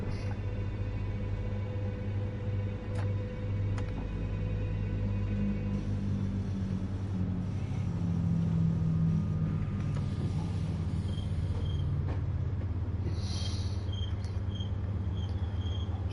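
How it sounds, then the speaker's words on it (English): A train pulls in within the Train Sim World 4 game as a quiet, steady low rumble and hum that swells slightly midway, with faint cricket-like chirps in the background. "Another train coming in."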